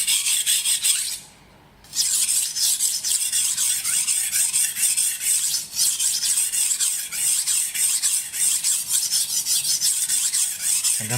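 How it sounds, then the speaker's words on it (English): A knife is drawn repeatedly across a whetstone, a loud, close rasping scrape in steady strokes with one brief pause near the start. "stone that actually sharpens the knife"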